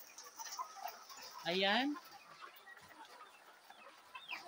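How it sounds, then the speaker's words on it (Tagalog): Farm chickens cluck and cackle at close range, with one louder drawn-out call rising above scattered quieter clucks while a person talks. "ipapakita ko sa inyo ang aming manok"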